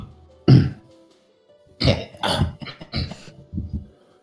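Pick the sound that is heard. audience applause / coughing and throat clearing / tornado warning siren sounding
coughing and throat clearing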